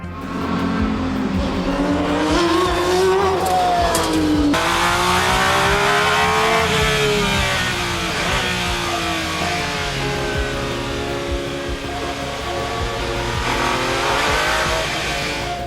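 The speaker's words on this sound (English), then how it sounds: "the V12 sound is incredible." A Ferrari F50GT race car with a V12 engine screams loudly at high revs, pitch rising and falling through gear changes as it passes close by, with tire noise and a continuous roar throughout.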